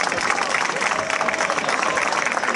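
Applause from an outdoor crowd at a town fiesta in Hoya del Campo, a steady dense clatter of clapping with some murmuring, continuous for a couple of seconds.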